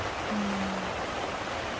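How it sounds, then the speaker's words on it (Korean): Rain falls steadily on farmland where cabbage seeds have been sown, making a continuous even hiss throughout with no talking. "빗소리 들리죠? 또또 떨어지는 소리."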